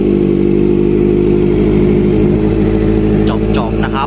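A 2015 Honda CB650F motorcycle engine runs loud and close at a steady idle throughout, with a voice briefly coming in over it near the end.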